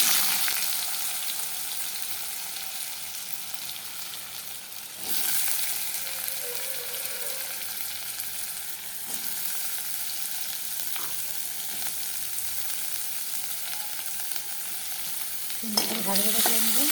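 Potatoes and paneer fry with spices in hot oil, making a loud, steady, close sizzle that holds for the whole stretch, with a brief swell and a light clatter of utensils now and then.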